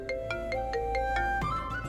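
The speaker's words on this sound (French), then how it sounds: "Un appel vidéo de Samy?" An incoming video call rings on a phone with a soft electronic melody of repeating tonal pulses, moderately quiet, continuing without any talk.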